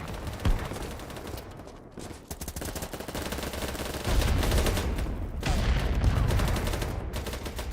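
Sustained gunfire from a Battlebit Remastered firefight, with bursts of automatic shots rattling almost continuously, growing heavier and denser in the second half.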